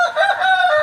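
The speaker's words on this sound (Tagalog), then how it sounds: "Manok." A rooster crows once in a backyard, a short, close, loud cry.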